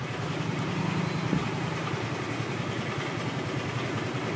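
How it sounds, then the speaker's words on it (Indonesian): A motorcycle engine idles steadily after a kickstart, giving a continuous low rumble at moderate volume with no talking. "ini sudah saya kickstarter atau sudah saya selah. Untuk motornya sudah nyala ya."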